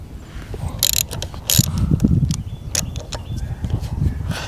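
A 3/8 inch ratchet clicking and turning while working on a 1988 Evinrude 200hp V6 outboard motor, close mechanical clicks and clanks in irregular bursts with no speech.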